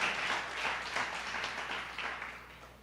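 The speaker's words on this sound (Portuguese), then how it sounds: "Dê uma salva de palmas ao Senhor pela sua vida" Church congregation giving a round of applause to the Lord, a steady wash of many hands clapping at moderate distance with a low hum beneath it.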